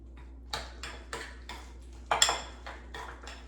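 A spoon stirs ground cinnamon into a bowl of oatmeal, clinking against the bowl in a steady rhythm of about eight close, light taps, with one sharper knock in the middle.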